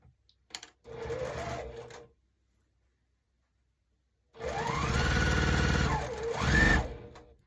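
A sewing machine stitches quilt charm squares into a row in two bursts, a short run then a longer one, its rapid mechanical whir rising and falling in pitch as speed changes, with silent pauses between and no talking.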